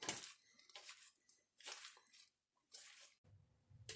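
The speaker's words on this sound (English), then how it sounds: "we're going to toss that salad up" Kale and fig salad with onions being tossed in a bowl for a pork tenderloin harvest salad, giving several soft, close squishing and rustling bursts separated by pauses, with a brief clink near the end.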